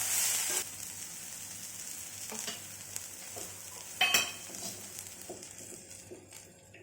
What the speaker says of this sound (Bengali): পেঁয়াজটার কালারটা চেঞ্জ করতে শুরু করে দিয়েছে, আর একটুখানি ভেজে নেব।